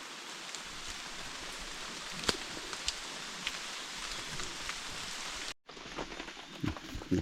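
Steady rain falls outdoors, a dense even hiss with scattered louder drops, briefly cutting out near the end before resuming.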